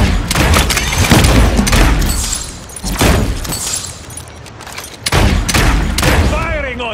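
Heavy gunfire from the Paladins shooter game, with loud repeated bursts, booms and impacts in quick succession under occasional in-game voice lines.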